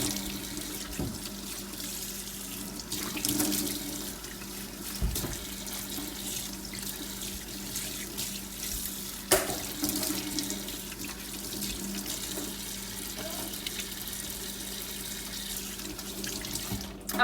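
A sink tap runs steadily while someone splashes water to rinse skincare product off their face, a continuous close rush with small splashes and no talking.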